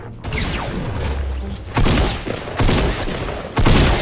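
Several loud, booming shotgun blasts in Fortnite ring out one after another at roughly one-second intervals, each a sharp blast with a rumbling tail.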